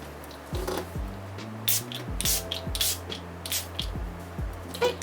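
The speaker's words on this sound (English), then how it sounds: "I just like to do about 4 sprays lengthwise across my face" Dewy Glow makeup fixing spray misted across a face in a series of short, close, crisp spritzes, roughly four bursts spaced about a second apart.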